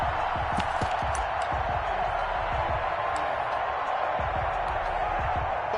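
Stadium crowd noise from an Eagles versus Buccaneers American football video game, a steady loud roar of cheering that holds at even level throughout with scattered low thumps beneath.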